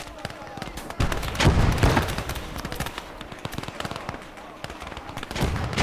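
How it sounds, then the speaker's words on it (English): Battle gunfire in the Gates of Hell video game during a massive urban fight: dense, continuous rattling shots and booming impacts at close range, loud and layered throughout. "the battle's begun because I hear gunfire."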